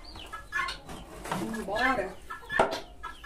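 Chicks clucking and peeping softly while being fed on a farm, brief scattered calls heard under someone talking nearby.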